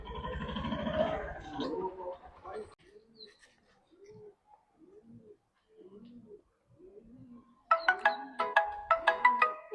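A phone ringtone plays in short repeated dove-like cooing phrases with gaps between them, then breaks into louder, brighter chiming notes at the end; a voice speaks briefly at the start.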